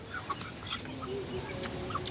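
Chickens on a poultry farm of about 120 birds, two months old and near two kilograms each, cluck softly and sporadically in short, faint calls over quiet background noise.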